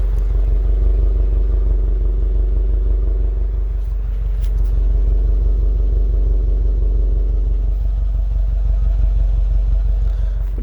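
A warmed-up 2012 Subaru Forester XT with a stock STI exhaust idles with a loud, steady, deep exhaust rumble, close by and continuous throughout, with a slight dip in level midway.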